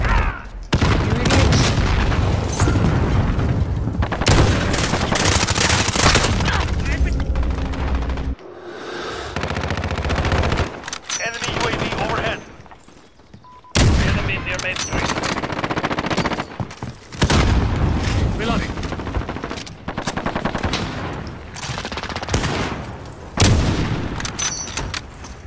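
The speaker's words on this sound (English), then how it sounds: "I didn't even shoot my gun, it just discharged." Full-auto gunfire in a video game, dense loud bursts of rapid shots with booms, broken by a few short lulls, intense throughout.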